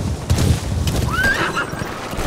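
A horse whinnies in the stealth video game Metal Gear Solid V: The Phantom Pain, a short rising-and-falling neigh over hoof clops and low ambient rumble.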